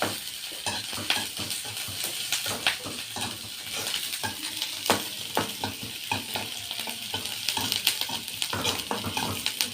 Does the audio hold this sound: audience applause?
no